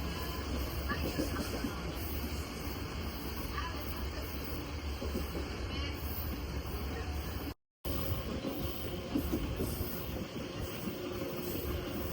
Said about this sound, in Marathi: साडेपाचशे ट्रेन पकडून आपण चाललं आहे हो